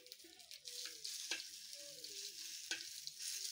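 Sausage stew cooking in a pan gives a faint, steady hiss with a couple of soft utensil knocks, while someone quietly hums over it.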